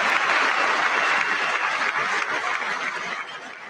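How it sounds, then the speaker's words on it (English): A chamber full of people applauds during a State of the Union address, in a dense, sustained clapping roar that slowly fades toward the end. "I wasn't sure if anybody even on this side was going to applaud for that."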